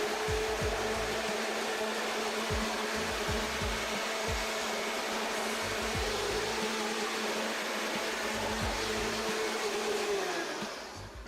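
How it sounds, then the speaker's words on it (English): A leaf blower roars steadily up close while blowing debris out of a vintage 1975 Honda CB200T, a loud continuous airy whoosh with a steady motor hum, easing off just at the very end, with no talking. "some of the stuff out of here with the leaf blower"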